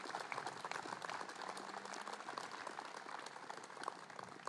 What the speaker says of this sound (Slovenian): Dajmo lepo prosim en aplavz za naše prijatelje v Alzaciji.